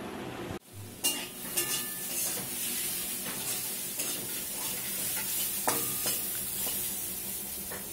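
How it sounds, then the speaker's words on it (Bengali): Potatoes fry in a pan in a home kitchen, a steady close sizzle broken by scraping stirs and a few sharp clinks of the utensil against the pan. There is no talking. "এই যে বৌদি হচ্ছে আলু ভাজা বানাচ্ছে"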